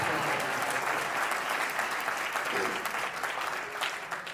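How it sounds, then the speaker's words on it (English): Dense, steady applause from a crowd at a wedding reception for Ritika and Srinath, loud and sustained throughout with no break. "Give an applause, please"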